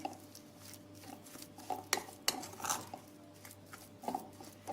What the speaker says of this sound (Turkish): Şöyle bir karıştırıyorum bunları.